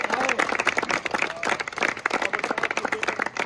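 Crowd applause at a turbo-kart race event in Wohlen, a dense stretch of rapid clapping over the whole moment, with crowd noise mixed in.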